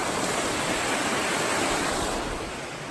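A creek flows right beside a tiny trail-hostel cabin called Trout Run, a steady close rush of water with no pauses and no voices.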